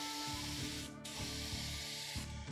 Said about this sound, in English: So I would set my gun to like needlepoint spray.